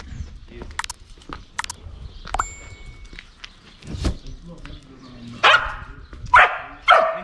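A dog barks in three loud, sharp bursts near the end, after softer scattered noises and a few quiet clicks, beside a lifted Hilux pickup with a straight-through exhaust.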